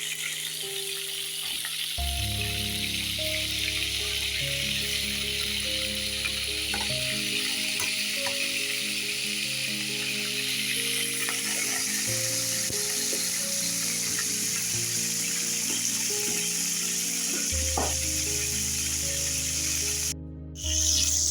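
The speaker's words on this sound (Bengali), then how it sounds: "কাঁকড়াগুলোকে একটু ভেজে নিতে হবে।" Crabs frying in hot oil in a pan, cooked the way fish are fried: a steady, dense sizzle holds close and loud for the whole span, with a brief dip near the end.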